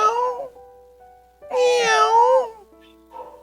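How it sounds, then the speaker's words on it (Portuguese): A cat meows three times: a short call, then a longer, drawn-out wavering meow, and finally a brief softer one, each clear and close with silence between them. "É voz dos gatos."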